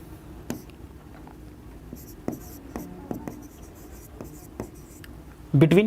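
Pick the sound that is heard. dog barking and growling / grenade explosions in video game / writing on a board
writing on a board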